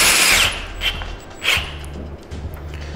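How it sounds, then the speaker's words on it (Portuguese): A power drill drives screws to fix a clamp onto a CNC router table, with two loud bursts of whirring, a short pause between them and a third quieter burst after it, heard up close. "Então vamos fixar com todos os parafusos."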